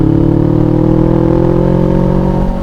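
A motorcycle engine close and loud with a steady droning hum that eases slightly near the end, on a mountain road ride with no talking.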